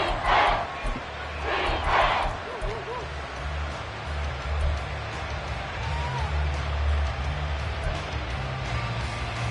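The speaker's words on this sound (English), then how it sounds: "The Arrowhead crowd in full roar." Football stadium crowd at Arrowhead roaring loudly and continuously, with surging chants and shouts from a massive audience filling the whole stretch.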